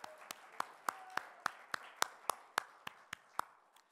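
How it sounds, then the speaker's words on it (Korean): Friday-service church congregation clapping in unison, sharp evenly spaced claps roughly every third of a second, about a dozen in a row, fairly faint and stopping shortly before the end. "우리 하나님께 영광의 박수 올려드릴까요?"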